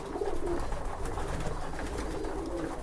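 A flock of pigeons coos steadily at close range while eating treat blocks, with a soft shuffling and pecking bustle running beneath the calls.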